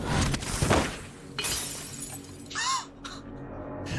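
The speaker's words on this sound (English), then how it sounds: "fling a glass bottle at my head and watch it shatter upon me" Glass bottle shattering in Dishonored 2, a bright burst of breaking glass with scattered tinkling shards, heard over a game's ambient backdrop with several other short effects around it.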